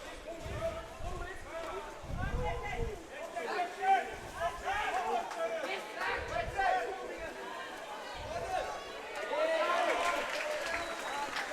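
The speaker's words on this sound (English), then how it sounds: "You can hear the crowd going wild." A crowd at a school water polo tournament cheers and chatters at a moderate distance, a steady roar with swelling shouts, and voices talk throughout.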